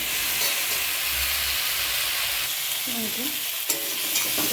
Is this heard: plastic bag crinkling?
no